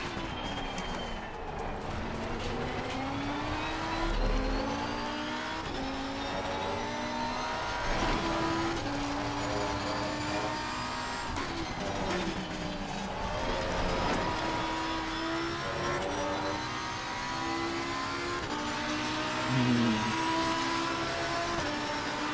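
A Ferrari race car in a racing sim howls through repeated high-revving runs and downshifts, the engine pitch sweeping up and dropping with blips in a close, continuous whine, with no talk.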